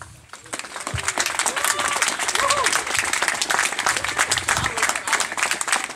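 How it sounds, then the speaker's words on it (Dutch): An outdoor audience at a carnival flag-raising in the Kloostersjtroat claps for the flag-raising committee, a broad patter of many hands that swells after a quiet start and holds steady, with murmured voices and faint whistles mixed in. "Dus graag een applaus voor de Vlaghijscommissie."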